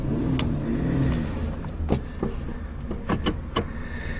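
Power windows on an old Chevy car found behind a barn, a steady electric motor whine sliding the glass, then several clunks and clicks nearby.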